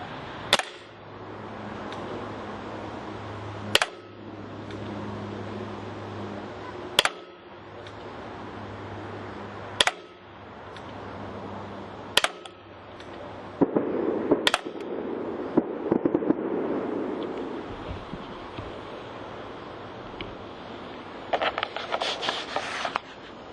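Baikal Makarov CO2 pistol firing at a target, with about eight sharp, loud shots at spaced intervals of roughly three seconds, plus some faint handling noise between them.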